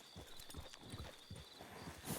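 Horse hooves clip-clop at a steady walking rhythm in the video game Red Dead Redemption 2, soft and fairly quiet, with faint ambient tones beneath and no talking.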